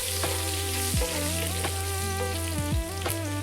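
Cumin seeds, dried red chili and fresh curry leaves sizzle steadily in hot oil, a close, continuous crackling fry under background music with no talking.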